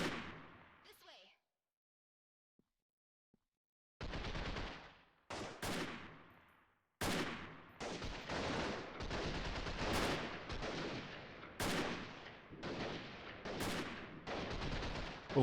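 Gunfire in the Freeman: Guerrilla Warfare video game comes as a brief shot, a pause, then repeated loud bursts of automatic fire and single cracks with sharp onsets, fairly close and continuing through most of the stretch.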